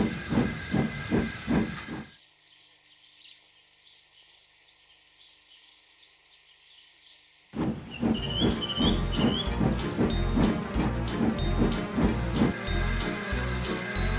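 Steam hisses from a locomotive for several seconds between stretches of rhythmic chuffing and clanking train sounds, loud and close.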